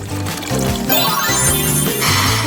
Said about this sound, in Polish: Tą wodą zalejemy cukierki.